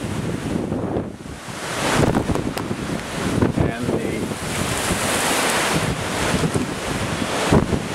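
Hurricane Irma wind roaring across a parking lot flooded with several inches of water, gusting and buffeting the microphone, with water churning and someone briefly speaking close by.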